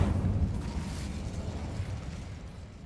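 Incendio fire spell cast in the video game Hogwarts Legacy, a dense rumbling whoosh of flame that swells at once and fades slowly over a few seconds, loud and close, with no voice over it.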